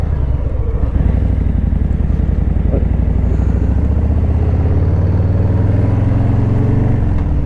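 A Suzuki motorcycle at Circuit Zolder roars loudly and continuously nearby, its engine note droning and rising in pitch as it passes, then dropping away at the end.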